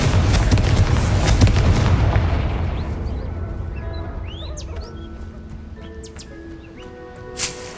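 A Confringo fire spell blast in Hogwarts Legacy erupts as a loud booming explosion that rumbles and fades over several seconds, with bird chirps and a brief sharp burst near the end.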